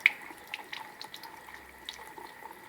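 Hot water running from a tap into a sink, a quiet steady flow with light splashing and a few dripping clicks.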